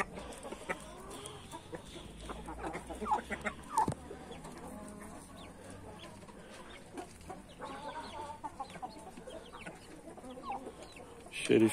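Roosters cluck and make scattered low calls close by in a farmyard setting, with faint background noise and a louder burst near the end.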